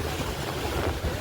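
Rushing water from a mountain waterfall on the Kedarnath pilgrimage route roars in a continuous broadband wash, mixed with gusty wind buffeting the microphone.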